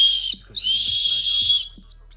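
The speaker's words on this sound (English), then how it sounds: "This orange clip right here is also the whistle" A shrill plastic safety whistle blown twice, a short blast then a longer sustained one, loud and close with no talking.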